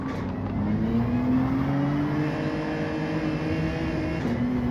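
Race car engines in Gran Turismo 7 drone steadily and loudly, one engine's pitch climbing gradually as it accelerates, with a brief shift near the end and no talk.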